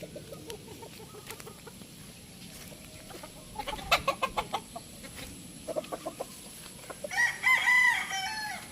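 A Kelso gamefowl rooster crows near the end at a farm, with clucking and scattered bird calls over a low background hum.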